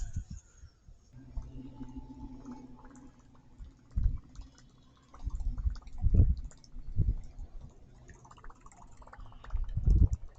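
A Whopper Plopper topwater fishing lure is retrieved across the water, making repeated soft gurgling splashes and plopping bursts that swell and fade at an uneven pace, with no talking.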